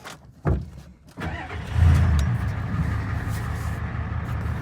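A Ford truck with a 7.3 diesel engine cranks and fires up, then settles into a loud, steady, rumbling idle.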